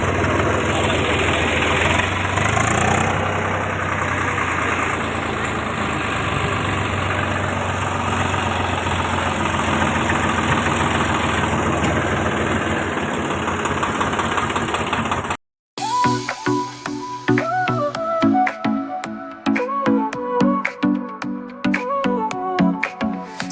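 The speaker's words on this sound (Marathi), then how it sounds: "हे बघा मित्रांनो आता आम्ही ट्रॅक्टर मध्ये बसलेलो आहे." A tractor engine idles in a farm field with a steady, loud rumble for about fifteen seconds, then cuts out and music takes over.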